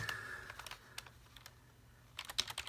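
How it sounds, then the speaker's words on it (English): Typing on a plain, somewhat dusty Logitech full-size keyboard: quiet, irregular clusters of soft key clicks with short pauses, picking up into a quicker burst of taps at the end, close and with no talk. "So here's how the normal keyboard sounds."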